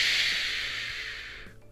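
A voice imitating an oxygen concentrator's puffing, a single long breathy hiss like heavy exhalation, close and fairly loud, fading at the end.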